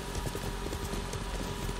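A horse's hooves clip-clop in the video game Ghost of Tsushima, quick soft footfalls in a steady rhythm under a constant low game background, fairly faint.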